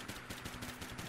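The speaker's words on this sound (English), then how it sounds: "I'm actually hearing some distortion in the gunshots" Rapid, continuous gunfire from the video game Global Outbreak: Doomsday Edition, a dense rattling burst of distorted, harsh shots repeating at a fast steady rhythm and filling the whole moment.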